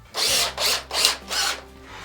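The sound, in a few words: power drill drilling holes in a network switch case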